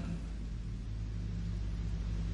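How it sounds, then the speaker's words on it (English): A car with a big-bore exhaust outside gives a low, steady rumbling drone, heard muffled and fairly faint from indoors, with no talk. "That's got to be a car outside"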